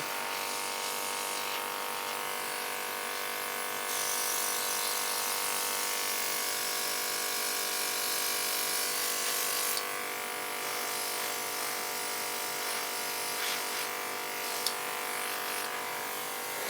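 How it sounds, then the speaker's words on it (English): An airbrush sprays paint with a steady, loud buzzing hiss that runs without break throughout, shifting slightly in tone a few times, with no talk. "On that airbrush again."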